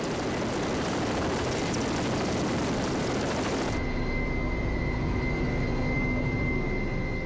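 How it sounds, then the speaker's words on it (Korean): A Korea Coast Guard special forces helicopter approaching the patrol ship Sambong near Dokdo during an anti-terror drill, a loud continuous rotor and engine roar mixed with wind and sea noise that shifts tone partway through. "헬기 한 대가 삼봉으로 다가옵니다."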